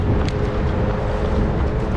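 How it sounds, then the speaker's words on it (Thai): Strong wind buffets the microphone of a runner on a Bang Yai–Kanchanaburi motorway at night, a loud, steady rumbling roar with gusty swells and no talk. "โอ้แต่ลมดี"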